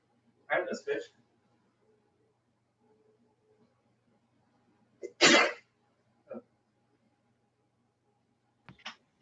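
One person sneezes loudly and sharply in a quiet room during a lower-body strength and balance exercise class. Brief vocal noises come a few seconds before and after it.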